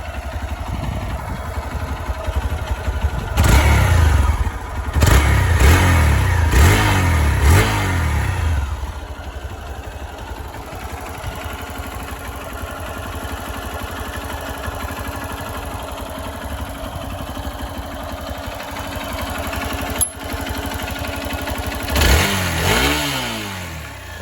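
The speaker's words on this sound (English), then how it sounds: "Now let's hear the exhaust note of this bike." A Hero Xpulse 200 BS6 motorcycle idles with a mid-pitched engine burble, close and loud. It is revved in several sharp bursts early on, settles back to idle, then blips once more near the end.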